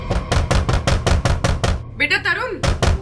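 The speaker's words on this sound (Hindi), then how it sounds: "बेटा तरुण, दरवाजा खोलो, दरवाजा खोलो बेटा, मम्मी बाहर खड़ी है।" Repeated knocking on a door, a steady run of firm raps in two bursts, broken by a brief higher-pitched sound in the middle.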